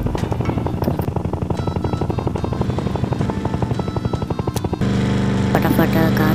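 Helicopter flying in a video game race where cars fly and players compete, a loud steady rotor chop with rhythmic thumping that shifts to a denser engine whine near the end.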